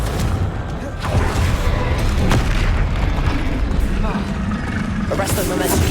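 Confringo spell blasts in the Hogwarts Legacy video game land as loud booming fiery bursts over a dense, rumbling wash of combat noise, one sharp impact standing out partway through.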